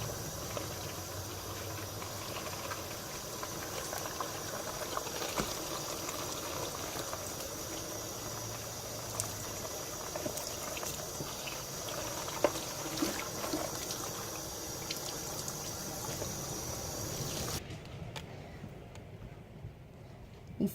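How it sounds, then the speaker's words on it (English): Water gently cascading over curlers set in a wig, a soft continuous trickle and stream running steadily and close for most of the stretch, then stopping near the end. "you don't want fast running water. You just want it to gently cascade over it"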